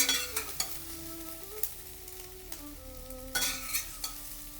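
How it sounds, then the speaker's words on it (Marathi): Tomato and onion sautéing in a pan, a quiet, soft sizzle with occasional scraping stirs and utensil knocks against the pan, no talk. "टोमॅटो मऊ होईपर्यंत थोडंसं परतून घेऊयात."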